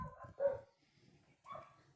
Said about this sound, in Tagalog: Pasensya na po sa ingay ng aso.